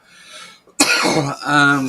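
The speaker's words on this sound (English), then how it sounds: "Sorry for the coughing real loud" A single loud, close cough bursts out after a brief quiet moment, followed by a raspy throat-clearing rasp.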